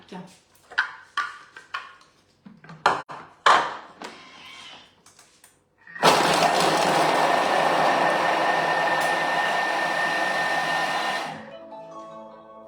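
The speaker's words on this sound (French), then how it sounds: "Et on va mélanger tout ça 5 secondes, vitesse 5." A Thermomix blends very spicy radishes at speed 5, a loud steady whir lasting about five seconds before it cuts off, preceded by scattered clicks and handling knocks.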